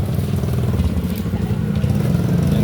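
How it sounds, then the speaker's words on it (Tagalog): A motorcycle passes along a street, its mid-pitched engine clattering and rumbling loudly and close by, holding strong across the whole stretch. "Yan, may motor."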